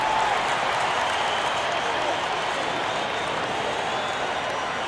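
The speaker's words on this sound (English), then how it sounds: "The crowd is going crazy" A basketball arena crowd in the NBA 2K22 video game, Sacramento Kings versus San Antonio Spurs, roars and applauds in a dense, steady wash of noise that holds at an even level throughout.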